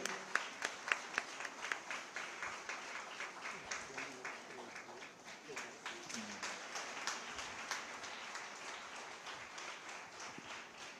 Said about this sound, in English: Clap for him, please. Clap for him.